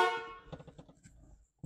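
The horn of a Chevrolet C10 pickup truck blares once, loud and close, for about half a second, then cuts off, followed by faint clicks and shuffling as the horn pad is handled.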